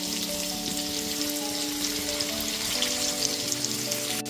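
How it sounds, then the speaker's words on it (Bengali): Potatoes frying in hot oil for a mutton curry, a steady close sizzle and crackle with faint stirring, no talk. "আলুগুলোকে নাড়াচাড়া করে একটু লাল করে ভেজে নিতে হবে।"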